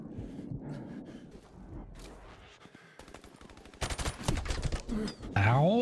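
Rapid bursts of automatic gunfire from Call of Duty 4: Modern Warfare Remastered rattle in uneven clusters, growing louder toward the end, with game sounds mixed in.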